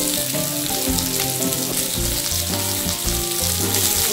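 Guava sabzi fries in a pan with a loud, continuous close sizzle as it is stirred, and nobody speaks.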